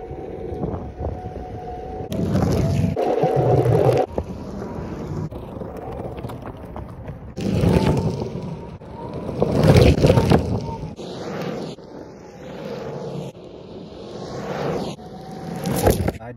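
Rolling rumble of a Meepo Mini 5 electric skateboard riding on a street, a steady wheel drone with a faint motor whine and wind buffeting the microphone, surging and easing over several stretches.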